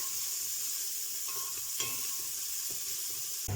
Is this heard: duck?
no